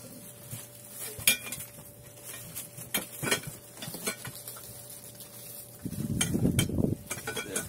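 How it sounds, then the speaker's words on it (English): Yard Works hose reel cart parts being unwrapped from plastic wrap, giving scattered crinkles and sharp clicks over a low hum, with a louder rustling burst near the end. "We'll unwrap all the pieces right now."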